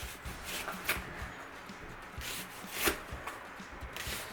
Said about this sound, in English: we are going to start by just slicing one large onion